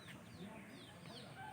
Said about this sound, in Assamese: ইপিনে মুৰ্গীবিলাক উঠিছে, কণী পাৰিব